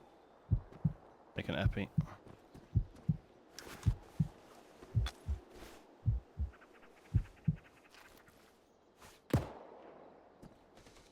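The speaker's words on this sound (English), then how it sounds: "I'm getting a heartbeat" Heartbeat effect in the Arma 3 video game: a steady, close, low thumping pulse that repeats about once per second, with spoken radio chatter and occasional gunfire over it.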